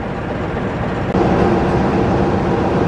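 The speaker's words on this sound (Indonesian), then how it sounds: "Kereta api Taksaka saat ini sudah tiba di stasiun Besar Gambir." The Taksaka passenger train arrives at Gambir station, Jakarta, rumbling close by with a steady low roar and rattling wheels, a sharp clunk partway through before the noise grows slightly louder.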